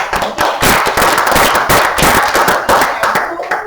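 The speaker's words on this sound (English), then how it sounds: "Another round of applause" A room full of people applauds after a presentation, a loud, dense burst of clapping that carries on steadily and close by, with no talking over it.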